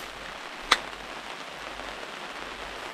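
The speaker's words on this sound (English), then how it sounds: "There's just something about the sound of that rain on that canvas." Rain patters steadily on a canvas tent at a camping spot in Victoria, a soft continuous hiss with one sharper drop hit near the start and no voices.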